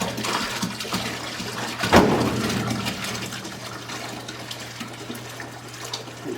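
Water pours steadily into red wine juice with a splashing burst near the start, then a continuous gurgling flow under a low steady hum.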